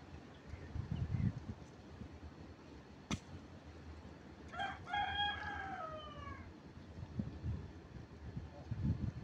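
A rooster crows once in the middle distance over steady outdoor background noise, preceded by a single sharp click.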